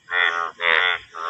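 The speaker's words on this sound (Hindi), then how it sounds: "इतने सारे मेंढक भरे पड़े ना इस वाले तालाब में, काफ़ी ज़्यादा मेंढक ही मेंढक हैं।" Frogs in a pond on a rainy day give three loud, raspy croaks in a row with brief gaps between them. The croaks are close and alone, with no talk.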